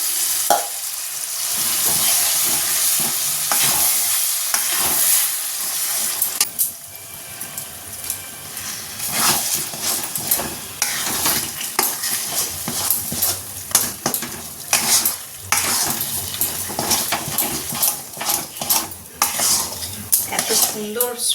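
Ground lentil paste being stirred into a pan of sizzling asafoetida tempering, a metal spoon scraping and clinking against the pan in an irregular rhythm over continuous frying hiss, close and loud.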